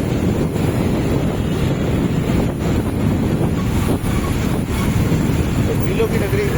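Light wind blows steadily past the microphone during a rain shower in the lake city of Udaipur, a constant rushing gust noise without speech.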